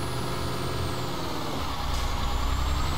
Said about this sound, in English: I'm literally burning out this truck up this hill with the trailer on it.